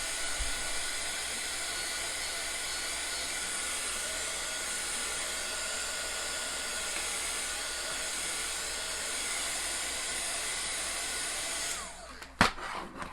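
A hair dryer blows steadily on a craft box frame, a close, loud, continuous whooshing hiss that holds evenly for about twelve seconds before cutting off, followed by a few handling knocks.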